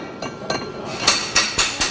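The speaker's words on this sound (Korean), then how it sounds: "먼저 불로 뜨겁게 달군 제품을 망치로 두드려 형태를 잡아준다" A hammer strikes heated bronze in a traditional Korean bronze workshop, giving about seven sharp metallic clinks, irregular at first and then coming at a steady rhythm, close and fairly loud.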